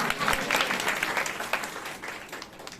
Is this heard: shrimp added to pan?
no